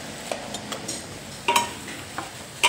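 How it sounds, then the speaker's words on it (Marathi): Spring onion greens being sautéed with gram flour in a pan, a quiet sizzle with intermittent sharp clinks and scrapes of a spatula against the pan, no talking. "आता बेसन टाकून घेतल्यानंतर परतून घेऊया आपण"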